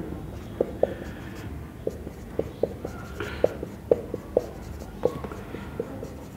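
A chemical formula being written by hand on paper, with soft scratching strokes and sharp little taps in an irregular rhythm, quiet and close.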